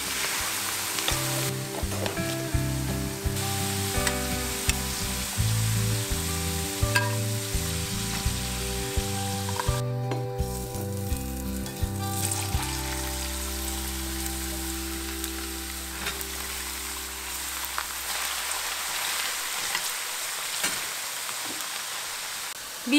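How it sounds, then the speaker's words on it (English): Oil sizzles and crackles steadily as food deep fries, with faint background music and clinks at first, the frying continuing alone afterward. "My potatoes are frying, the second batch"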